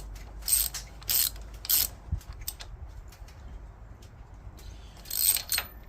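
A ratchet wrench tightens the spark plug on a Toro Wheel Horse 265 lawn tractor: several short bursts of rapid clicking, close and crisp, separated by quiet pauses.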